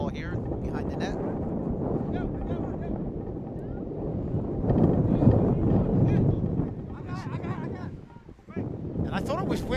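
Strong wind buffets the microphone at an outdoor lacrosse game, a loud, continuous low roar that swells and dips, with commentators talking over it.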